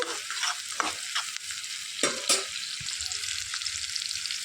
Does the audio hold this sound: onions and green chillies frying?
yes